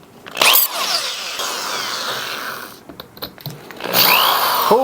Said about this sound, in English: now I got this porcelain tile drill bit